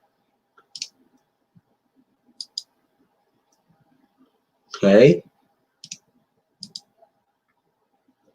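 Sharp computer mouse clicks come in small pairs and singles, spread across a quiet stretch, with a brief spoken word in the middle.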